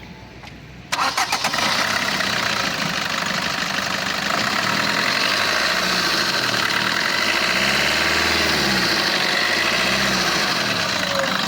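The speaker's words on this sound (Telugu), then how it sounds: "బండి ఆఫ్ చేశాను, మళ్ళీ స్టార్ట్ చేస్తాను చూడండి" A 2018/19 Maruti Brezza VDI diesel car starts with a quick crank and catches almost immediately, then settles into a loud, close, steady idle with a rhythmic diesel clatter.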